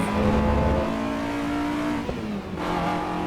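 A Mini Cooper with a B16A engine in Assetto Corsa EVO hums along at steady revs, a loud, close droning note that dips briefly and then picks up again, alone without speech.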